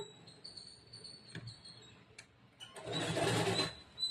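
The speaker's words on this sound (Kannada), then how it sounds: "ಇದ್ರ ಮೇಲೆ ಇವಾಗ ಇನ್ನೊಂದು ಹೊಲಿಗೆ ಹಾಕೋಣ" A sewing machine runs a short burst of rapid, buzzing stitching on a boat-neck blouse after a few quiet clicks and handling sounds, heard up close and alone.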